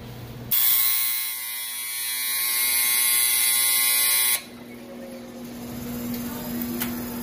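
A giant bread oven's motor runs with a steady electric buzzing hum, loud and harsh for several seconds before easing to a quieter continuous drone; the motor is over-torquing against a dragging bearing and stops intermittently.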